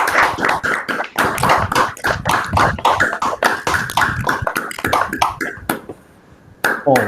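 Online audience applauding a speaker over open microphones after a physics lecture, many claps overlapping in dense, uneven bursts that thin briefly near the end before a final flurry.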